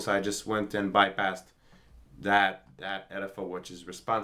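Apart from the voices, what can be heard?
No everyday noises stand out.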